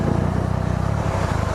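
Traffic on Interstate 10 in Houston in bad weather, a close rhythmic engine throb with steady road rumble, loud and continuous, no voices.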